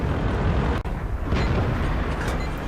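A tank's main gun fires in a World of Tanks–style battle, one loud booming blast with a rumbling tail, followed by a sharp crack and dull ongoing battle noise.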